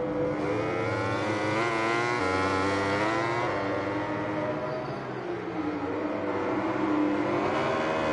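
Petronas Yamaha racing motorcycle in a racing video game, its engine a steady high-pitched whine with shifting harmonics running continuously and loud throughout, no voices.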